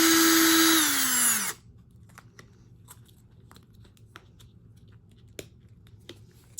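A drill bit bores through a plastic jar lid in a short, loud, high-pitched whine whose pitch drops before it cuts off, followed by faint plastic clicks and handling sounds.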